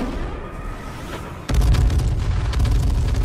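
Airstrike explosions in a multiplayer shooter video game: after a quieter stretch, a sudden heavy boom lands and is followed by a sustained, loud rumbling barrage of blasts and bursts, with no talk.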